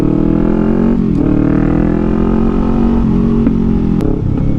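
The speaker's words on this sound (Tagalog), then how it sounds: "mas maingay pa tong Ninja 400 niya" Kawasaki Ninja 400 motorcycle engine droning steadily while riding, a loud, close, continuous buzz whose pitch rises and dips slightly with the throttle, with no talking and a few faint clicks.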